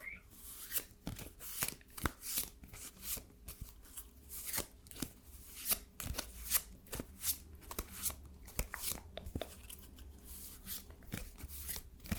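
A deck of fortune-telling cards is shuffled in close, quiet ASMR-style detail, with repeated crisp riffling snaps and soft slides in an uneven rhythm.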